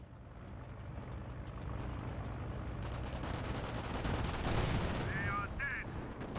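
Anti-tank gun fire and a landmine explosion in the Company of Heroes strategy game, heavy booming blasts and rumbling battle noise building up under continuous talk, with bursts of gunfire mixed in.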